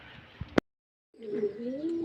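Pigeons cooing close by, a low warbling coo rising after a brief sharp click and a moment of silence, with faint voices at the start.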